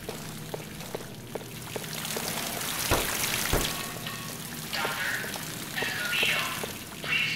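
Running water from a shower room in the video game Black Mesa Blue Shift, a steady broadband rush with scattered drips and splashes and a few louder bursts, continuing throughout.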